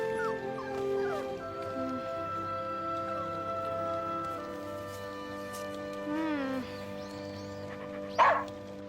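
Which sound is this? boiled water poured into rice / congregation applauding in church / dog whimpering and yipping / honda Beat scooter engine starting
dog whimpering and yipping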